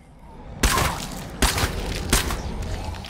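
Three loud, booming gunshots from a firearm in State of Decay 2, each about three-quarters of a second apart, with a reverberant tail after each shot.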